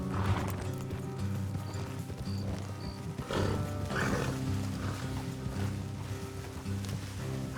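Horses gallop in the Western video game Red Dead Redemption 2, their hooves clip-clopping in a steady rhythm under a sustained musical score, with brief snorts and no speech.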